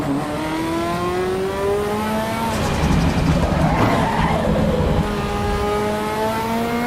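A race car in a racing game brakes in repeated cadence pulses, tires squealing as they lock, then the engine revs and climbs back up, loud and continuous with no talking.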